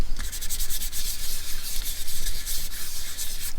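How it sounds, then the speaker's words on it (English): Quick, scratchy back-and-forth rubbing strokes, close up and repetitive, like a pad scrubbing Distress Oxide ink across paper. "now I'm going to ink up the whole pocket with some Distress Oxide"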